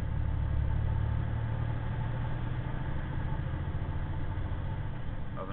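A truck engine drones steadily in seventh gear, labouring without climbing in revs, a constant low rumble heard from inside the cab with no talk.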